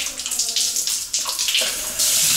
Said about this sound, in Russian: То есть душ работает хорошо.